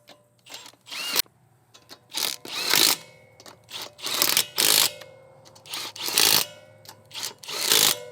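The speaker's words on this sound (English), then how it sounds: "torque these lugs to 120 Newton meters or 85 foot-pounds" A power tool spins the lug nuts on a 2014 Subaru Forester wheel in short repeated whirring bursts, each dropping back to quiet, close up in a garage.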